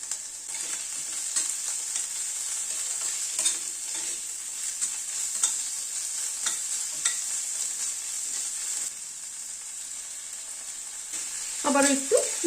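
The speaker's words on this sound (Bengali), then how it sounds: "আবার একটু মিনিট খানেক নাড়াচাড়া করে নিলাম।" A spoon stirs egg Schezwan curry masala in a frying pan with a steady sizzle, scraping strokes recurring through the stretch and a louder clatter near the end.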